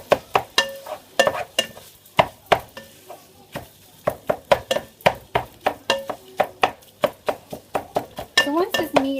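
Meat for pasta e fagioli being broken up and browned in a pot: repeated sharp scraping and tapping of a utensil against the pot, irregular and close, over a low sizzle.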